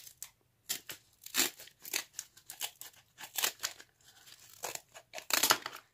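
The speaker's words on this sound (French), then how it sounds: "On va tout de suite découper l'autre partie." Close-up cutting of a part for a homemade test tube stand: irregular bursts of snipping and crinkling, some quick and light, others louder and longer, with short pauses in between and no talking.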